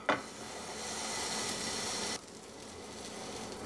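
Pork tenderloin dropped into a hot pan, a brief thump then a steady broad sizzle that softens slightly partway through, fairly quiet.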